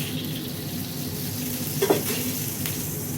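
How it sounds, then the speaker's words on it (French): Beef fat heats in a frying pan set to maximum temperature, giving a low, continuous sizzle with a brief spatter or clink midway, fairly quiet and without speech. "On chauffe bien à la poêle, température maximale."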